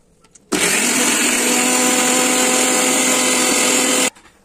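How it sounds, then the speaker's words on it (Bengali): A loud electric blender whirs steadily for about three and a half seconds grinding spices, starting abruptly and cutting off cleanly, with no voices. "এবার আমি শাহি মাংসটা ভুনা করার জন্য এগুলো ব্লেন্ডারে ব্লেন্ড করে নেব"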